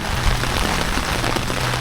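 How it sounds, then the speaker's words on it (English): Heavy rain pours down steadily, a dense, close hiss of drops pattering on surfaces with no letup. "the rain picked up a lot more than we thought it would"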